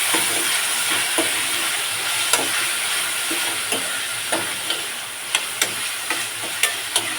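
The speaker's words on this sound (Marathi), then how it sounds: "आता मी यामध्ये टोमॅटो घालते." Chopped tomatoes go into a pan of onions already frying, for a cauliflower, pea and paneer dry dish; a steady close sizzle with stirring clicks and scrapes of a spoon against the pan throughout, no talk.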